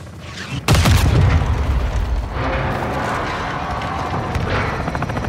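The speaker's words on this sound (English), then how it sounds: "Got an airstrike incoming" An airstrike in Call of Duty: Modern Warfare 2 lands with a sudden heavy boom, followed by a rumbling roar that swells again midway, loud and close with no talking.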